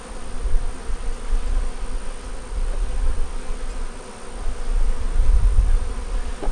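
Honey bees buzz in a dense, steady swarm during a hive inspection, the close, continuous hum rising and falling slightly with no voices.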